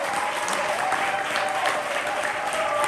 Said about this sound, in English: Keep that applause going for your next poem right now.